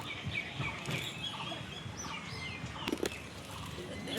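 Birds flying in to be fed, their wings flapping in short bursts, with a few faint bird calls over quiet outdoor background.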